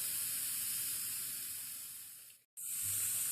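Chopped onion sautéing in a pan, a steady loud hiss and sizzle running continuously, briefly cutting out near the end before resuming.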